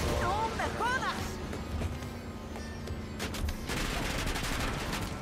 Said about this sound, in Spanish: Mamma mía, cuánto disparo.